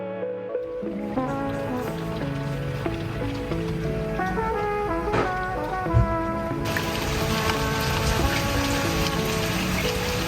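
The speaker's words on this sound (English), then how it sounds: "It just won't stop raining this morning" Rain patters steadily on a surface with dense, irregular drops, growing heavier partway through and continuing without a break.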